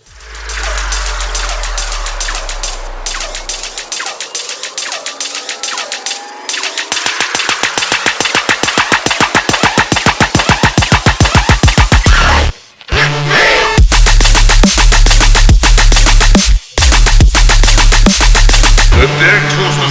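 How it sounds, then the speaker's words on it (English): Synthesized choppy machine-gun dubstep bass made in Serum, loud and continuous with rapid stuttering bursts and deep sub-bass, briefly cutting out twice before resuming, with no voices. "how to synthesize this super badass choppy machine gun bass over here"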